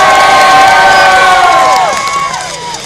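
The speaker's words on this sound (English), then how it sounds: "stomp your feet, clap your hands, yell and scream, lose your minds because it's showtime" Theme park side-show audience at a Fright Fest Halloween event cheering, yelling and screaming loudly together, a dense continuous crowd roar with high shrieks that tapers off near the end.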